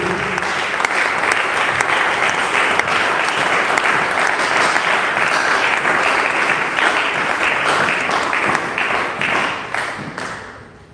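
A church congregation applauds continuously and loudly throughout, a dense steady clapping that fades out only at the very end.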